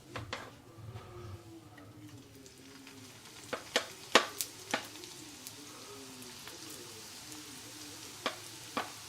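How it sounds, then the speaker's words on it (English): A small piece of egg roll dough frying in hot oil in a carbon steel wok gives a steady, low sizzle, with a scattering of sharp crackles and pops, most of them clustered in the middle. "So you can see the little piece of dough frying."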